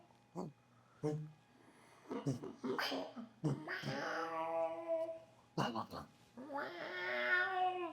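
Several meows and yowls come in short bursts, some drawn out into whiny wails, fairly close with quiet gaps between them.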